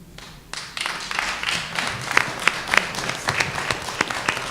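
Audience clapping for a judge at a community meet-the-judges event in Brooklyn, rising from quiet into sustained, moderately loud applause with sharper individual claps standing out near the front.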